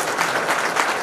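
A short burst of audience clapping at a speech event, dense and even, filling the whole moment without voices.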